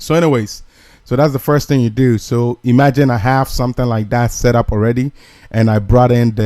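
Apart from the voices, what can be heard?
No distinct noise like a dog, phone or traffic.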